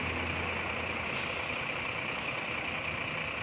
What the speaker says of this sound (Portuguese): Olha os ônibus das Sovalinhas